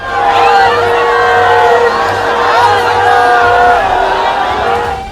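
A dense, loud crowd chants and shouts Jai Shri Ram slogans at Amit Shah's road show in Birbhum, Bengal, a sustained roar of many voices in unison.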